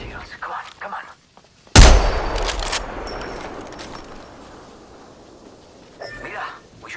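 Apex Legends gunfire lands as one loud, sudden blast with a long rumbling decay, between stretches of quieter game sounds and talking voices.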